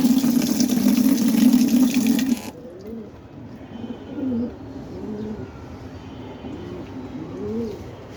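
Water is poured into a bird's drinking pot for 2 seconds as a close, splashy stream that stops abruptly, followed by soft pigeon-like cooing nearby.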